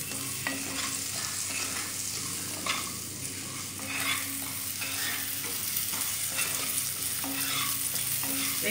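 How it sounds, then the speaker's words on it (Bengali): Potatoes and vegetables for moong dal fry over a medium flame in a pan, giving a continuous soft sizzle with repeated scraping stirs of a spatula at an even pace. "আমি কিন্তু ভাজাগুলো করছি সব মাঝারি ফ্লেমে"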